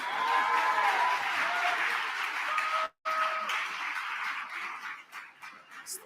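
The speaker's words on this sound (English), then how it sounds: "give that brother a round of applause" A crowd at a Malcolm X birthday tribute and awards event claps in a steady wash, with a brief dropout midway, then the applause thins and fades toward the end.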